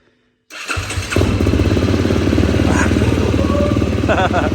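A Ford Mustang Shelby GT350R engine fires up after a short silence, then runs loud and steady up close with a deep, continuous rumble.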